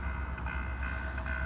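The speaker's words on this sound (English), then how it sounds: "So I decided to go and sit and watch the train come by." A train rolls past close by with a steady, continuous rumble and rail noise at constant loudness, no voices present.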